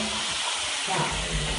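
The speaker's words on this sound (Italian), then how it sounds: "qui c'è una sauna che fa questa. Bagno a vapore. Bagno turco." A steam bath at a mountain spa hisses with a broad, continuous rush of steam that grows slightly louder partway through, close and steady.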